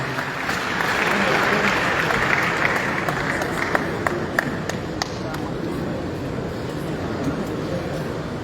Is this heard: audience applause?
yes